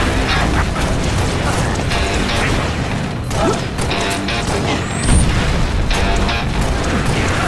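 Halo Reach combat: loud, dense gunfire and booming blasts run nonstop, with rattling mechanical clatter and sharp pops layered into a constant battle din.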